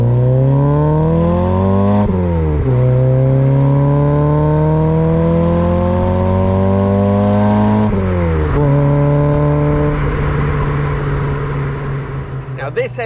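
A blueprinted, gas-flowed Ford Escort RS1600i engine revs up through several gears from inside the car, pitch climbing then dropping at each shift, loud and sustained.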